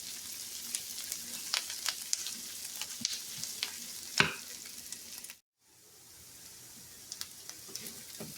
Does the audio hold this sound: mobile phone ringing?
no